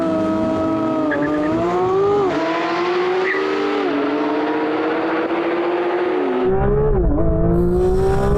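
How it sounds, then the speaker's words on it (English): Porsche GT3 RS and Maserati MC20 launching side by side in a drag race, engines roaring loudly with rising revs and gear shifts, tyres spinning and squealing at the start. "Loads of tyre spin."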